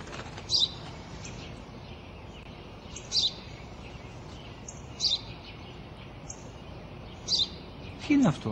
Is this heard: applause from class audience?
no